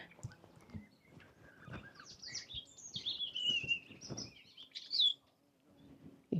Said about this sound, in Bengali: পাখির আওয়াজগুলা